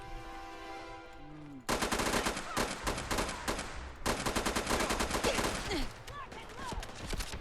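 Objective Rifle (OICW) weapon mod in Fallout 4 fires loud, rapid automatic bursts, two sustained strings of shots separated by a short gap, following a quieter stretch of game sound.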